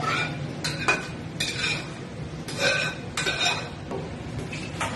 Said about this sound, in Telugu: మళ్ళీ దీన్ని ముక్కలకంతా పట్టేలా బాగా కలుపుకోవాలి